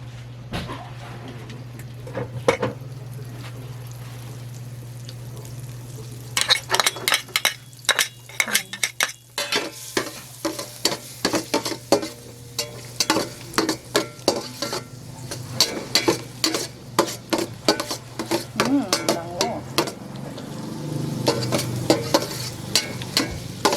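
Garlic fries in melted butter in a pan, a steady sizzle under repeated sharp scrapes and clinks of a utensil stirring, growing busier after a quieter start.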